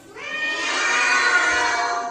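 A long, drawn-out meow sustained for about two seconds, loud and close, sounding like voices mimicking a cat rather than a real animal.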